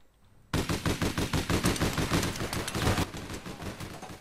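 Sustained automatic gunfire in the APB online shooter, a loud, close, steady rhythm of about a dozen rapid shots per burst that stops abruptly, leaving a ringing tail.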